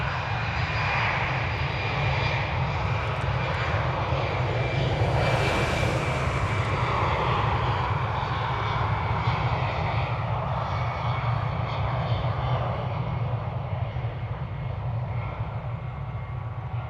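An American Airlines jet on flight 1304 to Austin makes a loud, sustained engine roar that swells briefly near the middle and stays strong throughout, with no talking.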